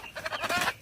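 Chickens in a pasture give a short burst of clucking, a few quick nasal calls close by with faint outdoor background.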